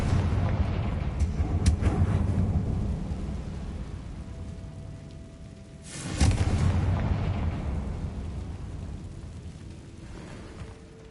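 Confringo fire spell blasts in Hogwarts Legacy: a rumbling explosion fades out, then a second loud boom bursts about six seconds in and rolls away slowly, with no talk over it.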